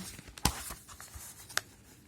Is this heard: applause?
no